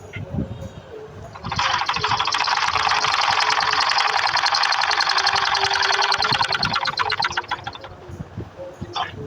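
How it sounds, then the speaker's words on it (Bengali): A sewing machine runs a steady, rapid stitch along a pant pocket for about seven seconds, a close, even mechanical chatter that starts and stops cleanly against a quiet room. "এখান থেকে ওই মাথা পর্যন্ত 2 সুতা ভিতর দিয়ে একটা সেলাই দেবো"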